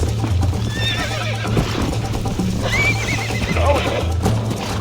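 A horse in the video game Red Dead Redemption whinnies several times over a steady clip-clop of galloping hooves and a low in-game background hum, with no talk.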